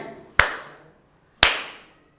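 Two sharp hand claps, one hand striking a held-still palm, spaced about a second apart, each crisp and close with a short ringing decay into quiet.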